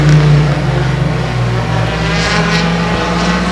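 Bomber division race cars lapping a track at a Labor Day Classic stock car race, a loud continuous engine drone with steady revving that rises and falls slightly as the cars circle.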